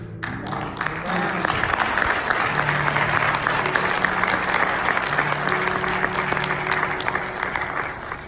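Sustained applause fills a church congregation at a retirement celebration, steady and dense from start to finish, with a faint tonal hum beneath the clapping.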